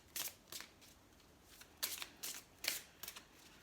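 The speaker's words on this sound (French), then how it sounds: "Donc je vais prendre 2 cartes pour les Verseaux en janvier" Oracle cards being shuffled by hand, a series of short crisp riffling bursts with brief pauses between them, close and quiet with no talking.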